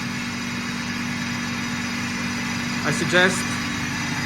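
A KAESER 15-bar screw air compressor with low hours, already at 6 bar, runs with a steady, even mechanical hum and drone. A person speaks briefly near the end.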